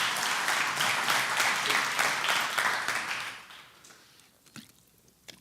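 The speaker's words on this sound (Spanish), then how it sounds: "da un aplauso al Señor" A church congregation gives a burst of applause for the Lord during a Sunday service, dense clapping that holds for about three seconds and then fades into scattered claps and quiet.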